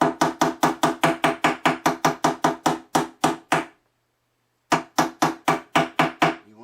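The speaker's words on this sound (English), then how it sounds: "And then just hammer across." Steel hammer blows seat frets across the fretboard of a StewMac HD-28 kit acoustic guitar, a quick even run of about fifteen sharp, close taps, a short pause, then a few more taps.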